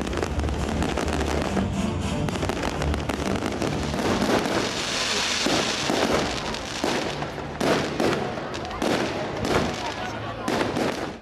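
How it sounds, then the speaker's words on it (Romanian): A fireworks display over the town of Pitești, with dense overlapping bangs and crackles, some sharp near reports standing out from a continuous rumbling roar, and a crowd's voices faintly beneath. "Piteștenii au asistat apoi la un foc de artificii."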